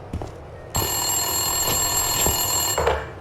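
An office telephone rings in a police station in the Max Payne 2 video game, a short burst then a sustained bright ringing tone, with faint footsteps and room sounds around it.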